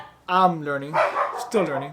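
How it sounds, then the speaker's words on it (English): A pet dog barks close by in a few quick bursts, mixed in with a person talking at the same time. "That's my dog"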